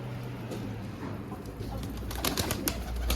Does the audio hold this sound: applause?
no